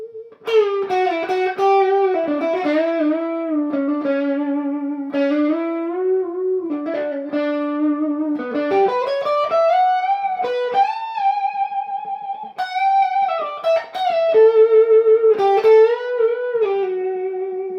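A lightly overdriven PRS McCarty 594 Single Cut semi-hollow electric guitar plays a slow, singing melody with long sustained notes and vibrato, warm and full, loud and solo throughout.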